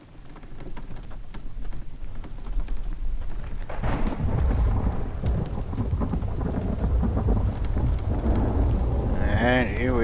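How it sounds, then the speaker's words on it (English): A video game thunderstorm brings heavy rain hissing steadily on surfaces while deep thunder rolls and swells in the middle, loud and enveloping with no voices. "And here we are, just in time for a thunderstorm."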